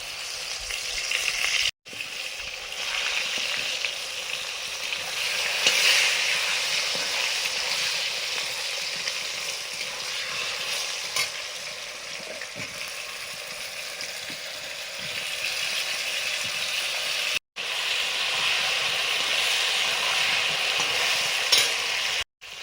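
Potatoes frying in a kadai with dry red chillies, bay leaf, five-spice, turmeric and salt, a loud, continuous close sizzle that runs steadily for the whole stretch, interrupted by two brief silent cuts.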